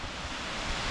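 A waterfall in a canyon roars as steady, dense rushing water noise, filling the short stretch without a break.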